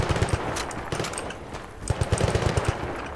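Gunfire in the video game Battlefield 2, fast bursts of automatic shots in two clusters separated by a short lull, moderately loud against a steady background rumble.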